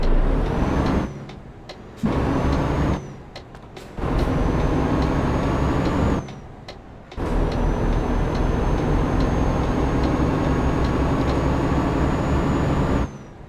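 An Iveco truck in Euro Truck Simulator 2 drives with a loud, steady engine drone that rises in pitch through the gears, broken by short gaps where the sound cuts out during gear changes.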